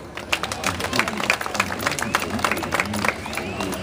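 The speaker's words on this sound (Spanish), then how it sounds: "Recibimos con un fuerte aplauso" An audience at a civic ceremony presenting municipal officials claps steadily, a sustained patter of many hands heard together with a voice speaking over it.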